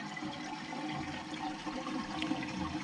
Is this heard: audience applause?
no